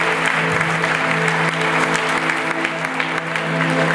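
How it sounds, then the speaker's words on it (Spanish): Church congregation applauding steadily in a sanctuary during a Spanish-language sermon, dense sustained clapping with a low musical drone from keyboard or organ underneath throughout. "dale un fuerte aplauso a la mente de Dios"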